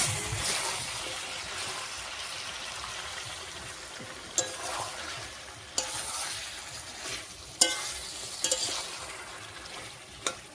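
Chicken with jackfruit and potato sautéing in a pan with a little water, a steady close sizzle and bubbling with a few sharp clacks of a spoon stirring against the pan, no voices.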